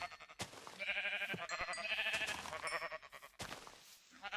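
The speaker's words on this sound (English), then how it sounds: "There's some sheep." Sheep in the Minecraft modpack GregTech New Horizons bleating repeatedly, a series of wavering nasal baas in close succession, fairly near and clear with little else around.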